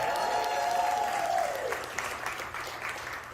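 An audience claps in steady, sustained applause, with a voice trailing off at the start over the clapping.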